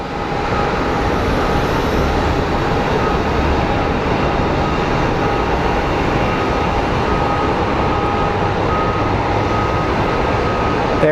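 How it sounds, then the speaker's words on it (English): A FedEx Boeing 777 landing produces a loud, steady broadband jet roar that holds constant and dominates throughout, with no voices. "So we have a FedEx Boeing 777 coming in."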